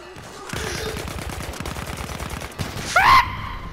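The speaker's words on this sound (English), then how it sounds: "I don't like this like jumping burst fire" Burst-fire gunshots in a Battlefield 1 match ring out as rapid, evenly spaced pops in a loud, steady stream for several seconds, with a brief pause before a final sharper burst.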